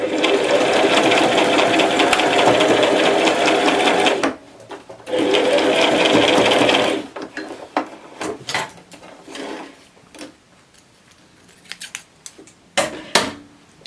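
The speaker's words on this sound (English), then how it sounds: "Then we're going to stitch it at that edge." A sewing machine stitches along the edge of a puff sleeve in two loud, steady whirring bursts, followed by quieter scattered clicks and fabric handling.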